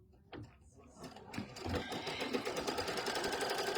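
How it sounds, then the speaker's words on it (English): Quiet at first with a few faint clicks, then a sewing machine starts stitching a tack-down placement stitch, settling into a steady, fast mechanical whir of needle strokes, close but soft. "We're going to do our next tack down placement stitch."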